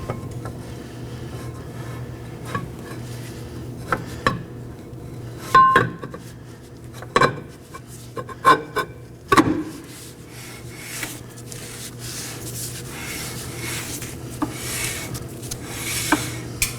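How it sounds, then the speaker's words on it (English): A rear brake drum on a 2014-2019 Nissan Sentra is slid over the shoes for a test fit, producing scattered metallic clinks and scraping rubs with a few sharper knocks, fairly close, over a low steady hum and without talk. "Now I'm going to test fit my drum. I'm simply going to slide out and see how much resistance I have."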